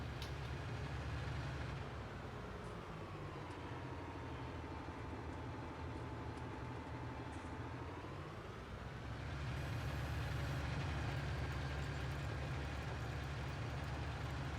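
A leased farm tractor's engine runs in a steady, loud diesel-like drone with a rich harmonic hum; the revs dip lower partway through, then climb back up and hold, with no talking.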